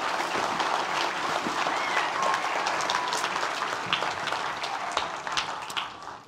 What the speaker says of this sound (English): Why don't you give them a round of applause?